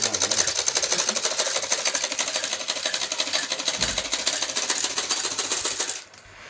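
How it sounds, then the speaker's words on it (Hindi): A sewing machine stitches clothes in a fast, steady mechanical chatter, close and continuous, then stops abruptly near the end. "गाइस मैं करने लगी सिलाई"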